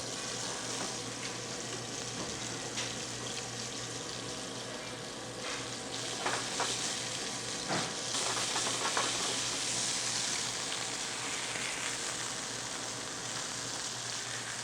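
Red mullet fish fillets frying in a pan while held down with a spatula, a continuous loud hiss of sizzling oil with occasional scrapes and pops, steady throughout and without speech.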